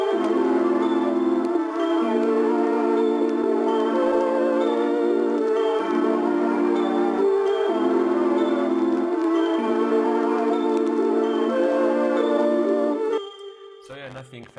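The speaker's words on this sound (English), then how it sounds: "So the bells with the sample sounds like this." Bell-like tones layered with a sample ring over a sustained sampled chord pad in a hip-hop beat, shifting between a few steady notes before stopping abruptly near the end.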